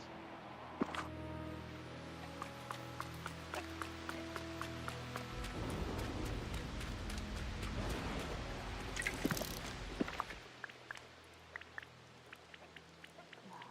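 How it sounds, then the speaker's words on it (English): Rain falls steadily in the life-sim video game Disney Dreamlight Valley, a soft continuous patter with scattered droplet ticks under gentle game music, heavier for a few seconds midway, then easing. "My question is the rain ever gonna stop? It's been raining even before I got the stream started."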